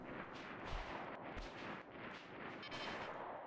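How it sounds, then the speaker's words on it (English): Machine gun fire in the RimWorld video game, heard as a continuous dense rumble of distant gunfire with a few heavier booms, steady and fairly faint, with no talking. "like you're gonna keep hearing machine gun fire"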